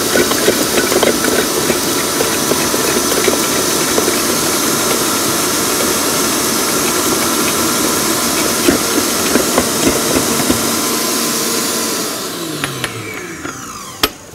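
An electric mixer whirs steadily, beating butter with two kinds of sugar for a pumpkin cake batter, loud and continuous close up before winding down near the end.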